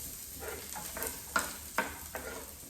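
Garlic sautés in a hot pan with a soft, steady sizzle, broken by several quick scraping stirs; the sound is quiet and close, with no talking.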